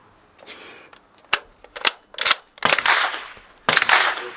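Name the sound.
gunshots at a shooting range in Prague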